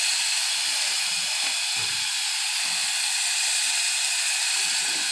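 A pressure cooker cooking bottle gourd curry releases a loud, continuous hiss of steam, close and unbroken, with no talking.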